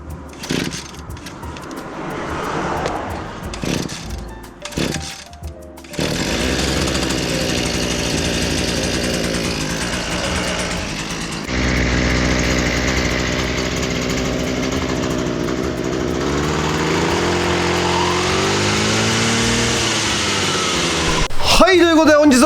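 A small engine sputters through several rough start attempts, then catches and runs with a steady buzzing drone, revving up briefly at the end.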